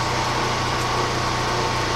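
A phase converter runs steadily to power a diamond lap grinder in a workshop, giving a continuous, fairly loud mechanical hum and whine with no pauses.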